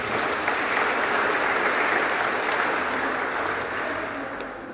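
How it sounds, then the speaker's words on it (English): A graduating high school class at a valedictory ceremony applauds, a dense, sustained wash of clapping from a large crowd that fades slightly toward the end. "Can you give yourself a round of applause,"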